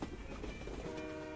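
Train departing in the video game West of Loathing, a short burst of rumbling rail noise with rhythmic clatter, loud and alone.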